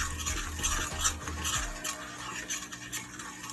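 Spoon stirring curry powder in a pot on a hot stove, scraping and clinking in irregular strokes with faint sizzling beneath, close by and fairly quiet.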